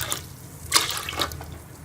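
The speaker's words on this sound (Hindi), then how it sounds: "चाश तैयार करने के लिए ये मैं तो इसमें पानी डालूंगी" Water poured into a pan to make sugar syrup for bread gulab jamun, a brief splashing pour with small drips, close by with no talking.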